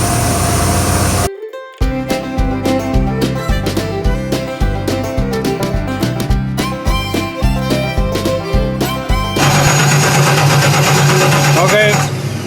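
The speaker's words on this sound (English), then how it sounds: "continue cranking" The engine of a 1994 Ford E-150 van with EEC-IV fuel injection cranks over repeatedly with a rhythmic, labored churning from the starter, loud and close, without catching when warm, before a brief hiss of noise at the end.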